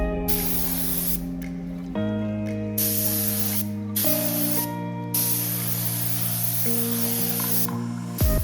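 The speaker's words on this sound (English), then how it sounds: "apply some coats of lac with a spray gun" A continuous spray-gun hiss with a steady mechanical hum beneath it, spraying lacquer onto a carbon fiber motorcycle windscreen, broken by brief pauses and restarts.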